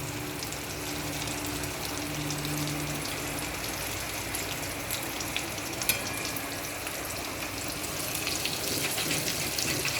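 Egg devil, a coated egg with gram flour and potato, frying in hot oil while oil is scooped over it; a steady, dense sizzle runs throughout with faint stirring and liquid sounds, no voices.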